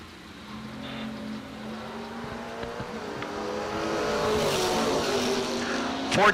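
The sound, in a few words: drag race cars, Chevrolet Camaro and S10, launching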